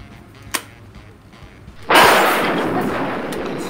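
A 40 mm gas-powered airsoft grenade launcher shell fires with a sudden loud blast and a long hissing rush of released gas, preceded by a faint click and quiet handling.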